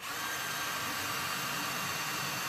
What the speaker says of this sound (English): Take your drill again, and I drill these holes at an angle